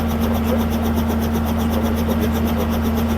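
A Robinson helicopter runs with its hydraulics switched on, giving a steady, loud mechanical drone with a faint rhythmic pulsing from the rotor throughout.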